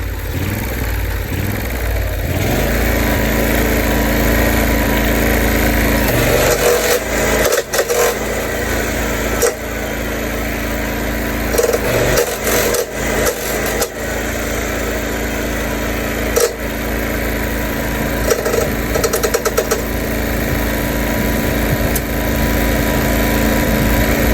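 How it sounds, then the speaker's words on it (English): A John Deere LT166 riding lawn mower in need of repair mows with a loud, continuous engine drone that surges and wavers, with bursts of clattering noise throughout and no voices. "Let's go try out that mowing."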